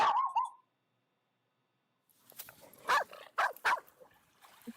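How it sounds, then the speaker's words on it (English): Mrs. Gimpy, a dog, gives two sharp barks close by, following a short high whimpering yelp at the start, with soft shuffling between and a quiet gap before. "that bark you just heard there, that's Mrs. Gimpy"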